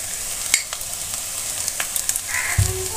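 Ground turmeric, chilli, cumin and coriander frying with sautéed onion and garlic, a soft steady sizzle with a few scraping stirs and a brief louder clatter near the end, no talking.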